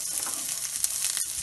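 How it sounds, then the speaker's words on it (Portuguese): Garlic from a whole head frying in oil in a pan, a close, bright continuous sizzle with crackling pops and brief stirring, no talking. "A gente vai dourar esse nosso alho aqui."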